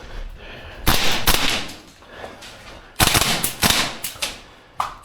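Tokyo Marui AK gas blowback airsoft rifles firing during close-quarters play, bursts of sharp cracking shots in quick irregular clusters with mechanical clatter, loud and close against a quieter indoor backdrop.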